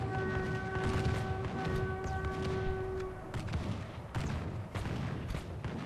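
Constant battlefield fire in Medieval 2 Call of Warhammer, a dense, rumbling din of distant shots and booms that never lets up, with a steady tone sounding through the first half.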